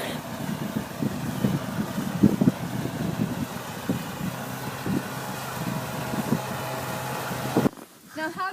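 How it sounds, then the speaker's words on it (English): A propeller-driven snowplane powered by a Chrysler L-head engine runs with a steady droning, throbbing roar amid wind buffeting, heard under a voice before cutting off abruptly near the end. "Propeller-driven turbine is currently powered by a Chrysler L-head engine."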